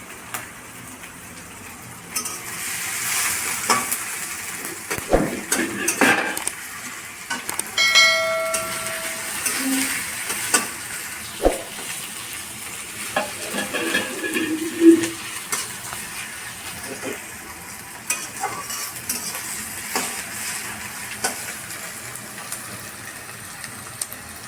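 Green chillies and onions frying in a pan, with a steady close sizzle under repeated stirring scrapes and occasional sharp clicks, no talking.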